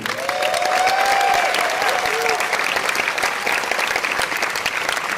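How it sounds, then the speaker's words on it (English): An audience at the Megaplex 2021 convention closing ceremonies bursts into sustained, loud applause, with whoops and scattered voices mixed into the clapping throughout. "Round of applause for all of you."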